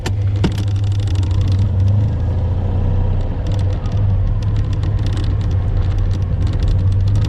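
A convertible car pulls away on its first drive of the year, its engine a steady, loud low rumble that holds throughout with a brief rev near the start.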